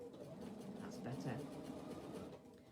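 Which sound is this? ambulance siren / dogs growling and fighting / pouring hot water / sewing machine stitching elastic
sewing machine stitching elastic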